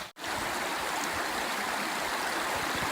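Straight Creek flowing along the Eagle Rock Loop trail, a steady, dense rush of running water that stays constant and close throughout, with no voices.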